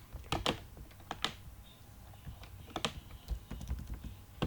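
Keys clatter on a computer keyboard while CSS is written, in short bursts of close, crisp taps separated by brief pauses.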